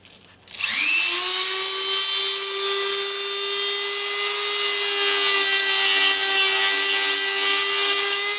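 An angle grinder spins up and grinds down rivets on the rear sheet-metal panel of a Citroën Traction 11B car body, giving a loud, steady, high whine with a bright tonal edge that holds without pause after a short start.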